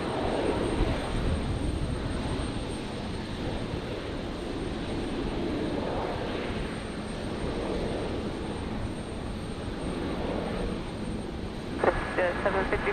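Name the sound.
Global 6000 business jet touching down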